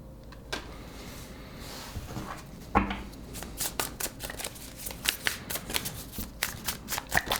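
Tarot cards being shuffled by hand, a soft riffle followed by a rapid series of crisp slaps and flicks building in density, close and fairly quiet.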